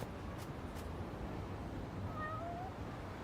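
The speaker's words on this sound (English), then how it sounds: "I hear the cat." Cat meowing in the video game Lost Judgment, a couple of short faint mews over a steady background ambience, with no talking.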